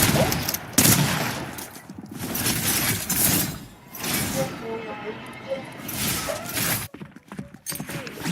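Rapid bursts of gunfire in a Simpsons-themed video game, with sharp crackling volleys and shattering impacts, heard loud under excited, overlapping talk from a player.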